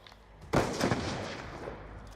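A grenade blast from a video game Balista goes off as one loud sudden boom with a long rumbling tail, fading slowly over two seconds, with no talk over it.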